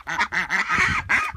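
A broody duck sitting on a clutch of duck and chicken eggs gives a quick run of about five close, raspy quacks in just over a second.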